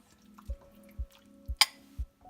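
White chicken chili broth is ladled from a slow cooker. Four soft, evenly spaced drips and splashes come at a slow, regular beat, and one sharper clink falls partway through. The sound is quiet and close, with no voices.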